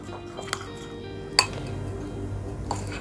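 A spoon stirring milk into crushed Oreo cream in a bowl, giving a few sharp clinks against the bowl over a soft, quiet scraping background.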